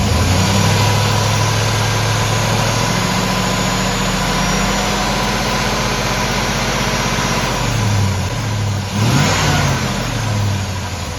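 A GMC truck engine runs loud and close, idling and then climbing as the RPM is raised, with a steady low drone that rises and dips in pitch during brief revs near the end.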